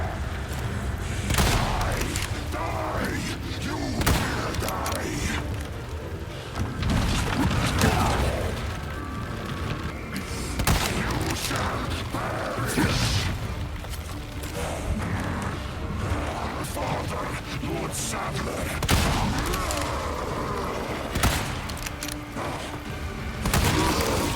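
Sniper rifle shots in Resident Evil 4, rendered as repeated loud gunshot bursts scattered across a dense, busy game soundscape with crashes and mechanical clatter throughout.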